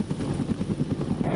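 An AH-1W Super Cobra Marine attack helicopter thuds with a fast, even rotor chop over a dense engine roar, steady and fairly close.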